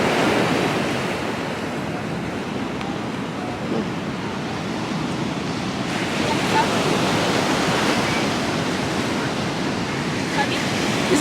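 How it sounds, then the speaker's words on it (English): Big ocean waves crash on the rocky shore of Tenerife in the Canary Islands, a steady, loud roar of surf and spray with wind buffeting the microphone throughout. "These are some big waves."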